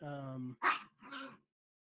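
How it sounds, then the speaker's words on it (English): A dog barks twice close by in a home setting, each a sharp short burst just after a voice. "My dog's acting crazy."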